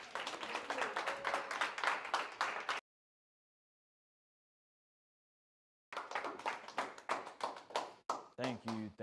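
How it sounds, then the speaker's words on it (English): Rapid rhythmic clapping from a crowd, cut off by a few seconds of silence, then more applause resumes with some voices near the end. "a round of applause"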